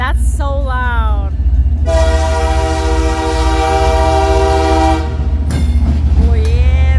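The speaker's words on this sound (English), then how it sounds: "Oh, this is way too close to a train." A freight train rolls past close to a hotel in Nelson, British Columbia, its horn blaring in long loud blasts over the rumble and clatter of the cars, while people talk and exclaim.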